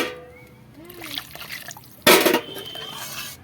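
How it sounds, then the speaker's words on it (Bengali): Water pours into a pan of simmering pangas fish curry, a short loud splashing burst after quieter dripping and bubbling, close by, with a voice speaking softly earlier. "আর একটু জল দেব"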